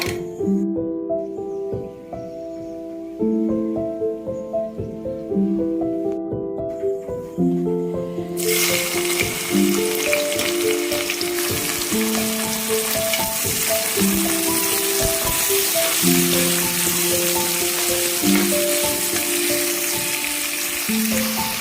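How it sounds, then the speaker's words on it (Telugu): Onions fry in plenty of oil with dried meat and rock salt, a strong steady sizzle that swells loud and hissing partway through, with background music playing underneath. "కొద్దిగా రాళ్ళ ఉప్పు వేసి ఉల్లిగడ్డలు మంచిగా మగ్గనిద్దాం"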